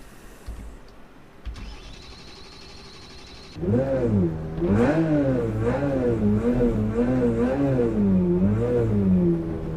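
A 2017 Porsche 911 RSR race car in a racing video game on the Nürburgring GP circuit fires up after a short electronic whine, then idles and revs loudly in a steady wavering drone; no talking.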